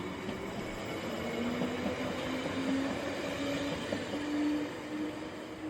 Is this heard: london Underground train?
yes